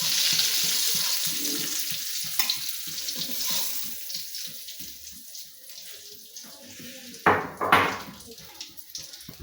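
Macaroni fries in hot oil in a pan for a chicken macaroni dish, giving a continuous bright hiss broken by occasional clinks and scrapes of utensils, with no talking.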